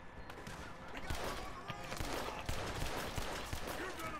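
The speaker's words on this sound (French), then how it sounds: "Je suis dans une fusillade, Samuel." Gunfight in Red Dead Redemption 2 with repeated sharp gunshots cracking in bursts over a busy game soundscape, loud and fairly close, with someone talking over parts of it.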